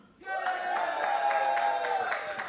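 A crowd cheering for Mona at an end-of-year celebration, a sustained shout of many voices with clapping mixed in, starting abruptly and holding for about two seconds.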